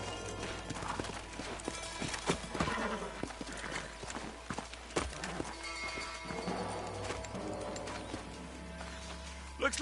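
Horse hooves clip-clop steadily in the Red Dead Redemption video game, a quiet rhythmic clatter under a low ambient rumble with occasional snorts.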